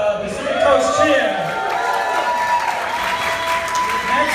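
Wedding guests from the Pacific Coast cheer and clap in a sustained burst of applause with whoops, loud and steady throughout, filling the room.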